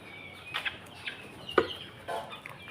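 Hens cluck in short, scattered bursts close by, several soft calls and one sharper squawk, with no talking.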